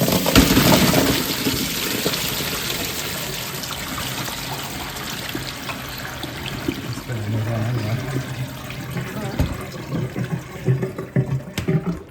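Brine water is poured out of jars of salt-cured olives in a home kitchen, giving a splashing, trickling gush. It is loudest at the start, then settles into softer dribbles and clinks near the end.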